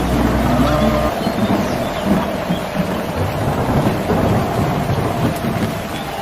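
Loud rolling thunder opens over a steady hiss of rain, with the rumble fading into a continuous rain wash on surfaces, and a voice speaking amid the storm.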